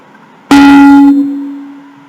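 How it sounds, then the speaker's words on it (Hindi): A single soft stroke with the first finger on the right-hand tabla rings out clearly as one resonant, pitched tone that decays slowly, alone and close. "पहली उंगली को स्याही के थोड़ा एक और हाथ हटाकर धीरे से आघात करने से टू की ध्वनि निकलती है"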